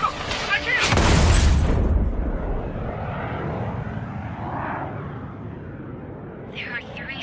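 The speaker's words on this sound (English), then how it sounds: "The approaching Osean aircraft." Osean military jet aircraft approach in the Ace Combat 7 video game, a loud rushing roar that swells, then settles into a sustained rumble with a faint whine near the end.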